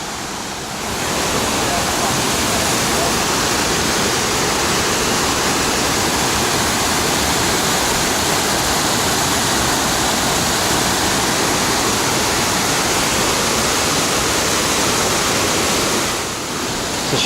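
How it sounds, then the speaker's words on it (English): Two creeks meet and flow in a steady, loud, unbroken rush of water, close by and continuous, with no voices. "It's the confluence of two creeks here"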